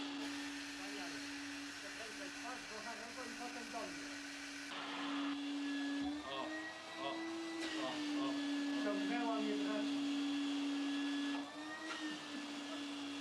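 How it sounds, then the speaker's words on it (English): A vacuum cleaner serves as a wind effect in a historical documentary, a steady droning whine that holds throughout and shifts slightly in pitch, with voices talking over it. "Vacuum cleaner wind effect got me."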